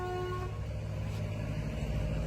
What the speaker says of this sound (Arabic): شنو هذا صوت الهورن اللي تسمعونه؟